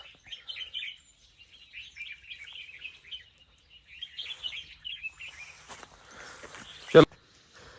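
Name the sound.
birds chirping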